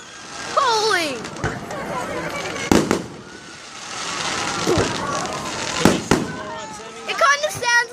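Fireworks set off at seagulls burst in several sharp cracks and crackling pops, some whistling rises before the bangs, with voices talking and exclaiming between them.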